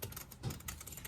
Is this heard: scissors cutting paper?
yes